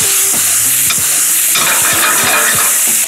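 Bacon fries in a pan, a loud, dense sizzle close up, with several quick stirring scrapes and knocks against the pan over a few seconds, no voices.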